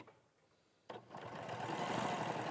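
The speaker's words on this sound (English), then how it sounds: "Right, I'm just going to sew along that line." A sewing machine stitches fabric, starting with a sharp click and then running in a steady, fast mechanical whir that builds slightly in loudness, close and alone.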